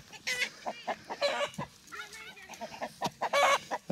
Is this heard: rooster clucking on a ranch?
yes